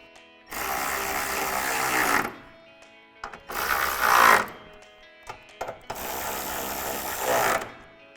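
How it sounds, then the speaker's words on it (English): Ratchet with a 10mm socket tightening a headlight on a 2005-2009 Mustang: three long bursts of rapid, loud clicking with short pauses between them. "Grab our ratchet with our 10mm socket and tighten it down."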